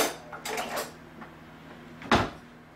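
Cutlery rattling in a kitchen as a knife is fetched, a short burst of clinking metal followed by a quiet pause and one sharper clatter, close by with no talk.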